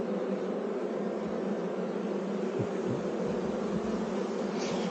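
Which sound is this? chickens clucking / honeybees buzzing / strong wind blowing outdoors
honeybees buzzing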